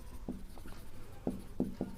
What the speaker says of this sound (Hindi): इससे पहले एक लाइन और लिखते हैं